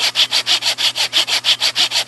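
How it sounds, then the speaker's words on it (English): A hand saw cuts a wooden handle for a zombie cleaver in quick, even back-and-forth strokes, about nine rasping passes, close and loud with no talking. "Dangerous sawing. Don't try this at home, kids."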